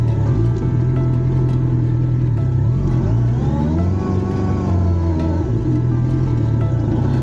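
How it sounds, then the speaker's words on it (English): A motorcycle stuck in mud in a Kenyan village, its engine held at a steady, loud rev as the throttle is pulled, with the pitch rising and wavering midway before settling back, close by and continuous. "gunning it, pulling the throttle a bit more, giving it more gas, and it passed"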